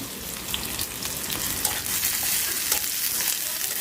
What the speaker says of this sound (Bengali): পেঁয়াজটা প্রথমে আগে লাল লাল করে ভেজে নিই